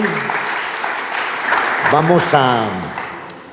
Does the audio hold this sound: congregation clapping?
yes